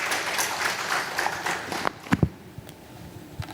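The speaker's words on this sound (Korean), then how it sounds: "박수로 환영해 주세요." Brief applause welcoming a church elder at a Friday Bible study gathering, a scattered burst of clapping that fades out within about two seconds, followed by a few isolated taps in a quiet room.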